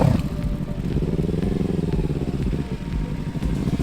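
A motorcycle putters at low revs through slow, tight turns in a parking lot, its steady engine note close and continuous with slight throttle swells, and nobody speaking.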